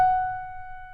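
A single pure, sustained note from the melody sounds alone, clear and close, decaying gently over about a second.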